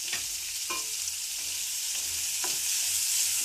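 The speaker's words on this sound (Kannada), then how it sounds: "ಚೆನ್ನಾಗಿ ಫ್ರೈ ಇರ್ಬೇಕು ರೀ" Whole spices, peppercorns, cardamom, cloves, cinnamon and black cardamom, fry for paneer masala in a pan with a steady, close sizzle and a few soft stirring scrapes, and no talk.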